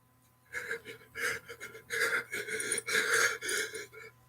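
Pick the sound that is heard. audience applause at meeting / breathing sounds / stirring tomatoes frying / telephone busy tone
breathing sounds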